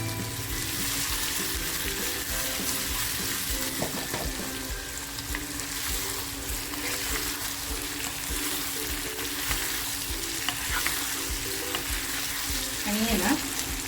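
Potato katli frying in hot oil with turmeric, salt and asafoetida, a steady, close crackling sizzle that runs throughout, with occasional stirring and utensil scrapes near the end.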